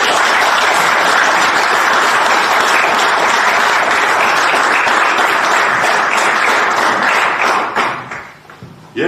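An audience applauds David Hambardzumyan with loud, dense, sustained clapping that fills the space evenly before thinning out and fading near the end.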